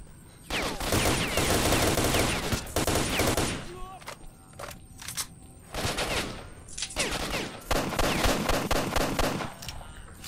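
Bandits open fire in S.T.A.L.K.E.R. Shadow of Chernobyl, loud bursts of rapid gunshots in dense volleys broken by short pauses, close and harsh, with no talk over it.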